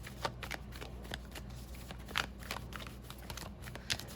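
Tarot cards being shuffled by hand during a reading, a soft ongoing riffle with occasional sharper card snaps, quiet and close.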